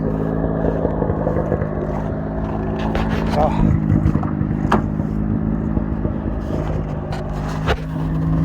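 A car engine idles steadily after a cold start at minus 12 degrees, a loud continuous low rumble with someone talking over it throughout.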